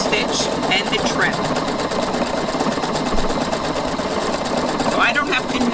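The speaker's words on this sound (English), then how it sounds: "the letters are disappearing as they finish stitching" A Husqvarna Viking sewing machine stitches lettering with a fast, steady mechanical whir and rapid needle chatter that runs nonstop, loud and close, while a person talks over it.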